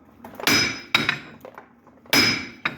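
Three sharp metallic hammer blows on a Jeep Grand Cherokee wheel bearing hub, spaced unevenly, each ringing briefly, with quieter taps and knocks between them.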